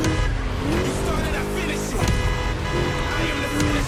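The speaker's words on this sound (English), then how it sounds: "Just listen to that V8, like a chonky, down-tuned guitar riff." A V8 car engine in The Crew Motorfest street racing game roars loudly and continuously under dense mix, with possible tire squeal and a faint voice talking over it.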